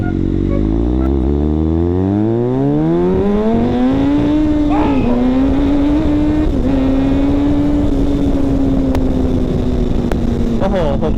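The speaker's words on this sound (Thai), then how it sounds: "เดี๋ยวลองบิดให้ดูนะทุกคน" A motorcycle engine revs up steadily as the throttle is twisted while riding, its rising pitch climbing then holding at a high drone for several seconds, loud and close with wind noise.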